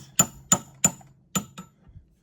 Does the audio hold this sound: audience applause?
no